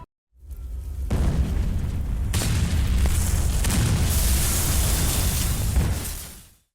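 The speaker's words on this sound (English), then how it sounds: "pick up the pieces of a detonator and then blow them the fuck up" A detonator blows up zombies in Resident Evil Outbreak, a loud, deep roaring blast that swells and rumbles continuously for several seconds before fading out.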